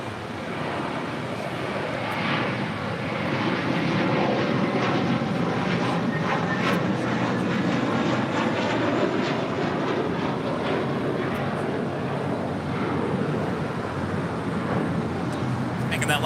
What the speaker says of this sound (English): Air China Flight 987 coming in from Beijing on this